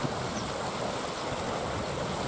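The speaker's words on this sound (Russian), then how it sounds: "Такой поток, что аж пенится." Strong water gushing and foaming from a pipe into a river, a steady, loud broadband rush that fills the whole clip with no pauses or voices.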